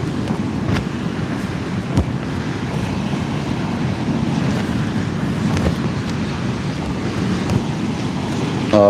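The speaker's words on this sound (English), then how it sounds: "There's too much wind going everywhere" Strong wind buffets the microphone at sea during kayak fishing, with waves sloshing around the small boat in a continuous rough roar and occasional knocks, no talk.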